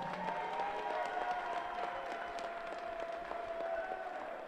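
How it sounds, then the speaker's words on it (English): Crowd applause at an amateur boxing final for both finalists, a steady, fairly distant roar of clapping with a sustained tonal hum underneath and no clear speech. "Let's have a massive round of applause for both finalists."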